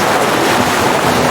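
Ocean waves wash and rumble in a broad, steady roar with wind buffeting the microphone, loud and close for a brief moment without any voices.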